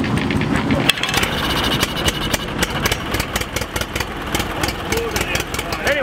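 A 1952 vintage snowmobile built in Saskatchewan idles at an outdoor vintage snowmobile show in Waconia, Minnesota, a steady rough engine chug running throughout at close range, with people talking nearby.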